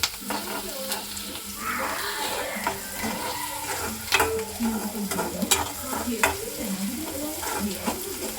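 Mushrooms fry in a pan for a pepper dry, crackling steadily while a utensil stirs and scrapes through them in irregular bursts, close and fairly loud, with a few sharper clinks.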